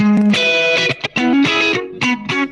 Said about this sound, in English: So here's our La Freak tone.